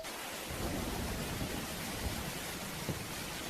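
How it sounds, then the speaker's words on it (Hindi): Steady heavy rain with a dull rumble of thunder, a dense constant hiss throughout in an animated scene from Dororo. "उसके बाद किंग डाइगो की जमीनों पर बारिश हुई"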